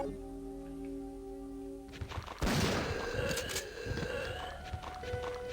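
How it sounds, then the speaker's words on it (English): A shotgun fires in the video game Resident Evil 3, with a heavy blast over steady game ambience and a droning tone. Clattering, thudding action follows over a few seconds. "I think I'm going to have to use the shotgun."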